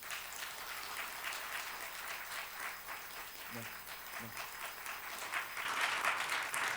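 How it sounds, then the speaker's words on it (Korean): Steady applause from a church congregation during an award presentation fills the room, continuous and moderately loud, with a few faint voices underneath. "자, 큰 박수 주시기 바랍니다."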